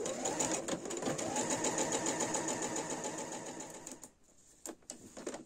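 A sewing machine runs steadily, stitching along the presser-foot edge at stitch length 3, a continuous close mechanical whir that stops briefly near the end, then gives a few short bursts.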